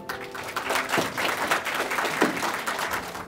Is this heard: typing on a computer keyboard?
no